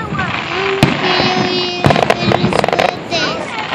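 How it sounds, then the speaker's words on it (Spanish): A Fourth of July fireworks show heard from nearby: a sharp bang followed by a cluster of crackling bursts and fizzing, with people talking over it. "¿No te gustan los cohetes? Están lindos,"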